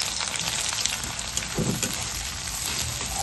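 Onions fry in hot oil with whole garam masala spices and bay leaf for a home-style chicken biryani, a steady close sizzle with a brief louder stir-like burst midway and no talking.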